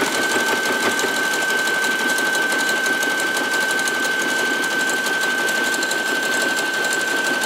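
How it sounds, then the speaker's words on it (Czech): A sewing machine overcasts the edge of coarse fabric, running in one steady fast buzzing stretch with a constant whine, close and alone with no pauses. "Já to v tuhle chvilku rychle přeentluji, aby jsme nemuseli prohazovat stroj."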